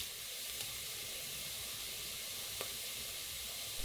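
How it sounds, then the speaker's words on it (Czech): Paprika sizzling in a pan on a hotplate set to about half power, a steady soft frying hiss throughout with a faint stir or crackle near the middle, quiet and close. "A teďka papriku zarestuji, řekněme tak 1 minutu"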